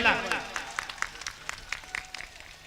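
Scattered claps from the audience at a 2019 mushaira poetry gathering in Khairabad, India. A voice rises briefly at the start, then light, uneven clapping continues in sparse bursts.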